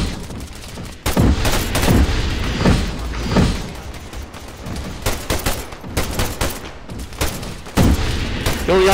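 Gunfire in the military game Arma 3, heavy bursts of automatic fire and booming shots in clusters separated by brief lulls, loud and near.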